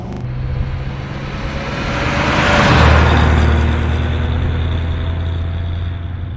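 A 1936 Cord 810 convertible drives over a rough road in the Bavarian countryside, its engine and wind noise swelling into a loud, steady pass-by rumble.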